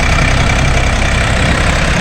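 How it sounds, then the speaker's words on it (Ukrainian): Bulat 244L tractor with a KM385 engine idling at a yard, a steady loud low chugging drone with a rapid even knock, continuous and close throughout. "Відгружаємо трактор Булат 244Л, двигун КМ385"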